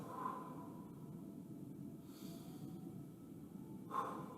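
Slow, deep breaths during a hip and glute stretch, close and soft, with a long exhale near the start and another near the end over a quiet steady background.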